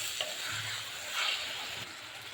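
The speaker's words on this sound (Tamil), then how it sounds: "நல்லா மசாலா ஊறுற அளவுக்கு இதில் போட்டு வதக்கி சிம்மில் வச்சுக்கோங்க." Chicken in masala sautés over a low flame for biryani, a soft close sizzle with gentle stirring scrapes, fairly quiet and brief.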